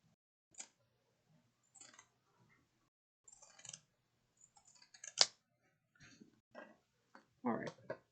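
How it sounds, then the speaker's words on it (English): Pinking shears snip through fabric in sparse, sharp clicks and crunchy cuts, close and fairly quiet, with a voice speaking intermittently between the snips. "you don't have to use your pinking shears"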